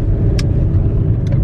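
A car's engine and road noise rumble steadily in the cabin while driving, a loud, constant low drone with a couple of brief clicks on top.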